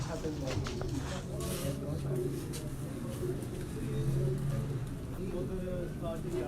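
Pigeons coo in low, repeated throaty murmurs against a busy background with voices nearby.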